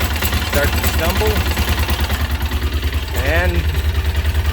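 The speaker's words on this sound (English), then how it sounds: "There the engine fell, start to stumble" A Polaris Ranger 800 crew utility vehicle's engine runs with an uneven, pulsing low throb, stumbling from a random misfire, close and steady throughout with a voice speaking over it.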